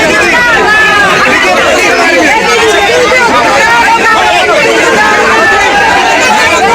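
A large, dense crowd greeting Priyanka Gandhi in Ayodhya roars and chatters in a loud, continuous babble of many voices close by.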